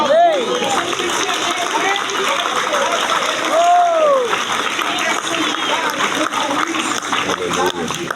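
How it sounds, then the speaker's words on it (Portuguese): Congregation at a church Bible study applauds in a sustained, dense wash of clapping with crowd noise and voices mixed in, loud and steady throughout, with shouted exclamations rising over it. "Você pode aplaudir."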